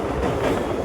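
A train on the Madurai–Rameswaram line crossing Pamban bridge gives a steady, close, rumbling roll with faint rhythmic wheel clatter, continuous and unbroken, with no voices.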